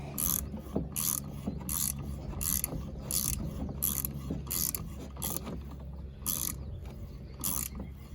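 A bottoming thread tap turns by hand in an aluminum oil outlet on a four-wheeler, giving a quiet, regular series of ratcheting clicks and scrapes, close up and with no voices.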